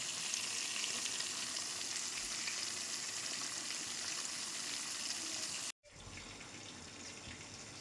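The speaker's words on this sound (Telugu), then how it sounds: "ఇవి కొంచెం లైట్ మగ్గించుకున్న తర్వాత టమాటాలు వేస్తున్నాం" Drumstick and tomato curry frying in a pan gives a loud, continuous dense sizzle that breaks off briefly near the end, then resumes slightly quieter.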